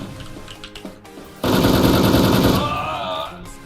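A sudden, loud burst of rapid automatic gunfire from a video game shooter, lasting about a second, rises out of quieter background sounds and fades into ringing tones.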